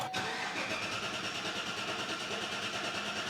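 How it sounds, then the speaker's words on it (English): A mild-hybrid car engine started with the accelerator pedal floored: a brief start transient, then a close, steady mechanical drone with no clear rise in pitch. "Pedal to the floor, wide open throttle, and contact."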